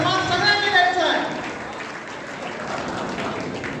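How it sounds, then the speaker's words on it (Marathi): An audience at an award ceremony applauds strongly, a dense wash of clapping that eases slightly but carries on throughout, with voices mixed in. "या ठिकाणी जोरदार टाळ्यांचा आवाज झाला पाहिजे"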